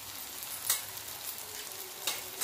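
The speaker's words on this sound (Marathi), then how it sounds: "आणि तेलामध्ये भाजून घेऊया लाल तिखट" Red chili powder frying in oil in a pan for a karela-style vegetable dish, a soft steady sizzle with a couple of brief stirring scrapes, fairly quiet and close.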